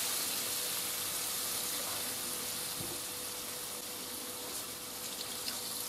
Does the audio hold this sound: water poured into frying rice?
yes